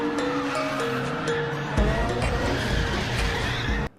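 Tires squeal and an engine revs as a car drifts through a parking garage in the racing game Assetto Corsa, loud and steady, with the noise jumping louder partway through before cutting off abruptly.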